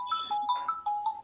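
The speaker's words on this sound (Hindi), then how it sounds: "उसी को गोविंद का ही फोन आ रहा है।" An incoming-call ringtone on a phone plays a bright, repeating electronic melody of short tonal notes, about six in quick succession, sounding clearly and close by with no talk over it.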